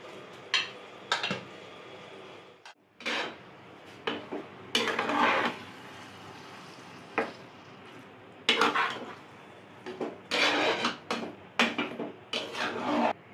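Cooked rice goes into a tomato mixture in a pan for South Indian tomato rice, with a spoon scraping and knocking against the pan in irregular bursts and pauses, close and fairly loud, over a faint background hiss.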